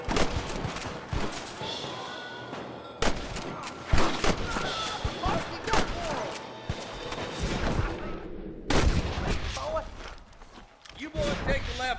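Repeated loud gunshots crack out in a Red Dead Redemption video game firefight, irregular bursts of sharp reports with a lull near the end, while voices shout over the action.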